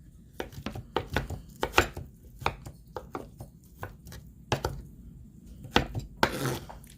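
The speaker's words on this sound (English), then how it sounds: "Just chop the tomato in half and cutting them into long strips and then into little squares" A knife chops a tomato on a cutting board, cutting it into long strips and then little squares for guacamole, with quick irregular thuds and taps at close range and no talking.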